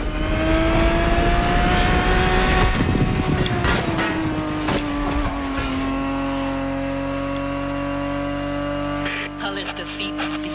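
A Ferrari Daytona race car engine in the video game The Crew Motorfest holds a loud, steady drone that climbs and settles in pitch, with someone narrating over it throughout.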